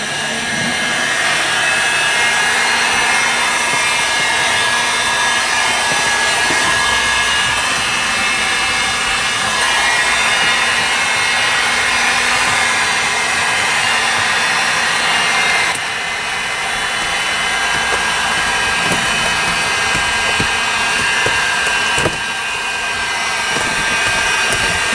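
A heat gun blows continuously while heating sound deadener on a vehicle beam, a loud steady close-up roaring whoosh that holds level throughout, with faint handling clicks and no talk.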